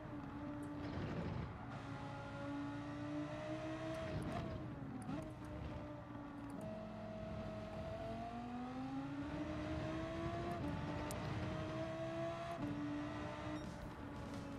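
Audi R8 race car engine in the video game Gran Turismo, a loud continuous drone that climbs and dips with gear changes and revs through a lap, with no voices.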